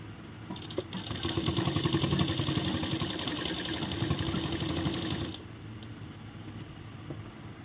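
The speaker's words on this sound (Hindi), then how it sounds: "अभी सेम इसी तरह हम चारों तरफ सिलाई लगाएंगे" A sewing machine runs steadily while stitching elastic onto a plazo's waistband, its rapid mechanical whir close and continuous for about five seconds before stopping, leaving quieter background noise.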